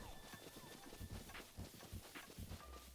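Horse hooves clip-clop at a steady trotting rhythm in Zelda: Breath of the Wild, the quick repeated thuds sitting low in the mix under game ambience, with a faint voice in the background.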